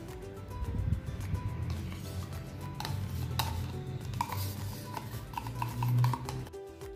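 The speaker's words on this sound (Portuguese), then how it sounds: "E misturar esse iogurte com esse pouquinho de leite." Homemade yogurt being stirred into a little milk in a bowl: faint scraping and soft clinks of a utensil, quiet and intermittent, with no talk.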